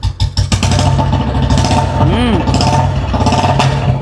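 A 2009 Royal Enfield Bullet motorcycle, sold as original with its gear shift on the reverse side and about 10,267 km on it, runs loud and close with a steady thumping engine note, while a voice briefly talks over it.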